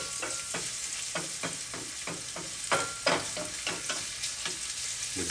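Peels frying in olive oil and sugar in a pan, a steady sizzle broken by repeated crackling bursts and stirring scrapes at a roughly even rhythm, close and fairly quiet, with no talking.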